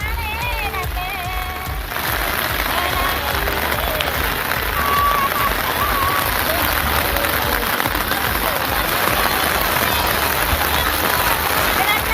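Heavy rain pours steadily over farm fields at Thevur where women are transplanting paddy, a dense continuous hiss with no break throughout.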